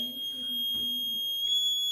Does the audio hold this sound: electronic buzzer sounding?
yes